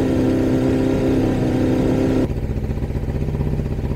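A car engine accelerates hard, a loud, steady mid-pitched roar close by that shifts to a lower, pulsing drone partway through, with no talk.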